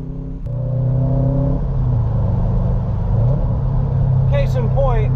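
Subaru STi with manual transmission pulling hard in third gear, a loud, steady engine drone heard from inside the car, with a voice speaking briefly near the end.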